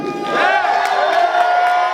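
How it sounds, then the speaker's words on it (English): A wrestling crowd at a CCW show cheers and whoops in approval, a loud, sustained roar of many voices with rising shouts, close and filling the arena. "Definite crowd approval"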